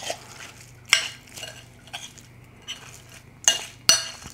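A spoon stirs food in a pot while dinner is made, giving several sharp metallic clinks and scrapes spaced irregularly over a soft background hum.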